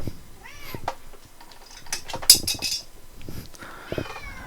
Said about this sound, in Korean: 고양이가 방해를 하네요.